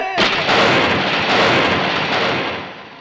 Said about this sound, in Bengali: ঘন ঘন বাজ পড়ার শব্দে